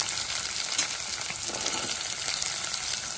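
Tomato and carrot pieces fry with softened onions in a pan, giving a steady, close hiss of sizzling with faint stirring scrapes throughout.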